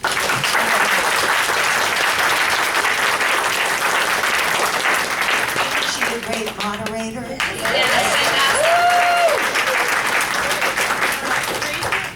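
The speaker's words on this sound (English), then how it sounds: "So big round of applause." Sustained applause from a convention panel audience fills the room steadily and loudly, with a brief voice speaking over it midway before the clapping swells again.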